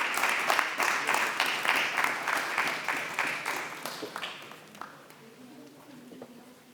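An auditorium audience at the University of Karachi Applied Physics Golden Jubilee claps warmly as Professor Abdul Qadeer is invited to the stage. The dense applause dies away after about four seconds into quieter room sound.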